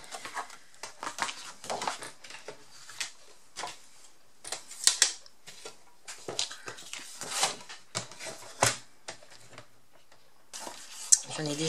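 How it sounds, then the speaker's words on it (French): Paper being cut for a scrapbook checkbook holder, quiet irregular snips and rustles close by with soft handling noises between them. "je vais déjà découper cette partie-là"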